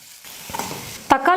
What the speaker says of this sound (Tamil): தக்காளியை சேர்த்து ஒரு 2லேருந்து 3 நிமிஷத்துக்கு நல்லா வதக்குனதுக்கப்புறமா